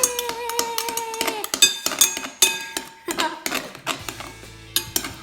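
Slime mixture stirred in a bowl, heard as a rapid series of close, bright clinks and scrapes of a utensil against the bowl, irregular and bunched, with a faint tone drifting in the background.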